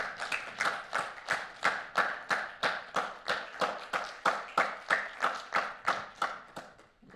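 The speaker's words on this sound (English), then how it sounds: "let's thank Prabha once again with a warm applause." Applause for a speaker after a talk on blockchain for cybersecurity, heard as rhythmic, evenly spaced claps, fairly close and moderate, fading slightly toward the end.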